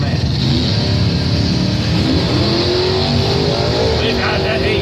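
Two drag cars, a 1972 Chevrolet Monte Carlo and a 1982 Pontiac Firebird, race side by side down a drag strip. Loud engine roar holds steady throughout, with an announcer talking over it.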